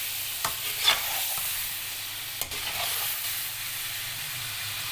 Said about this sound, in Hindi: अच्छी तरह इन सब चीज़ों को मिक्स करना है आपस में